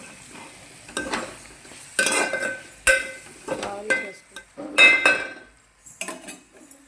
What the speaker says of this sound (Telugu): వేగిపోయిందండి, కొంచెం చికెన్కి అల్లం పేస్ట్ పట్టేటట్టు వేగింది.